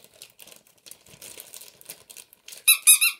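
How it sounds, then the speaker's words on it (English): Scentsy squeaky tennis ball dog toy squeezed three times in quick succession, sharp close squeaks after soft crinkly handling noises. "a squeaky scentsy tennis ball."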